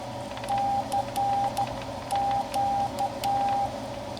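Morse code keyed with a paddle on a Xiegu X6100 radio, used like a straight key: a steady sidetone of short and long beeps in uneven groups over faint background hiss, with no talking.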